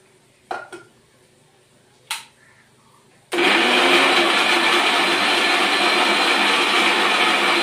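An electric blender whirs loudly and steadily as it grinds fried, reddened onion into paste, after a few sharp clinks of handling the jar beforehand.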